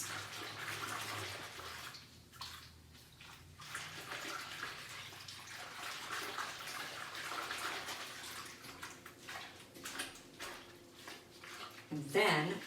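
Flour and water batter for wood-fired pizza dough being stirred smooth by hand, giving a steady, close, wet swishing and sloshing that runs throughout with brief lulls and a sharper clatter at the end.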